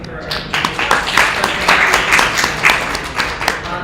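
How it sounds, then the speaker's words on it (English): An audience at a robot learning workshop applauds after a set of lightning talks, scattered clapping building and rolling steadily under a speaker's voice at close range. "let's give everyone a round of applause"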